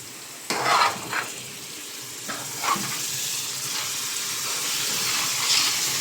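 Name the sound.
green chillies stirred into biryani masala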